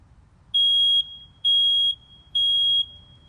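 Fire department demonstration of a household smoke detector: three piercing, high-pitched alarm beeps in an even rhythm, each about half a second long, loud and clear over a faint low background hum.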